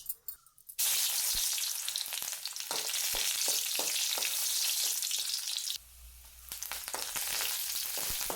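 Mustard seeds crackle in hot oil with a sudden loud sizzle after a quiet start. Partway through, the hiss drops as a ground masala paste is stirred in, then it keeps frying steadily.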